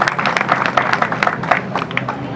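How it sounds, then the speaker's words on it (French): A crowd at an election rally in Malika claps in quick, irregular bursts, with sharp individual claps standing out over a busy background of voices and cheering. "l'applaudissement nourri"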